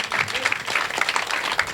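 An audience at an official installation ceremony applauds, a lively, uneven patter of many hands with crowd murmur and voices mixed in, fairly close and sustained.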